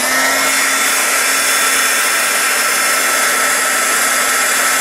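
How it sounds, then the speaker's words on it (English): A heat gun blowing hot air to melt embossing powder, a loud, constant whirring roar with a steady hum, unbroken from start to finish and no voices. "I'm going to get a little noisy here and do my heat gun"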